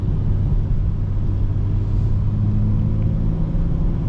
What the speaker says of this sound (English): I kept it in 6th gear on the highway, and man, car was pulling like crazy